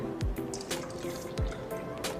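Carbonated drinking water poured in a short splash, with liquid trickling, drips and a few faint fizzy pops up close, with no talking.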